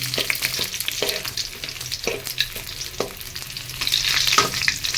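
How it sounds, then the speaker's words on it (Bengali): Rohu fish frying in oil in a pan, giving a steady, close sizzle with repeated stirring clatters and scrapes throughout, with no speech. "মাছগুলো খুব সুন্দর করে ভাজা হয়ে গেছে"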